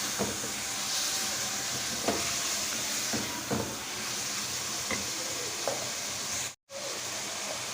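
Spiced masala with Kashmiri red chilli powder stirred in a pan for aloo gosht, a steady frying sizzle and hiss under repeated scraping strokes of the spoon, close and even, with one abrupt brief dropout near the end.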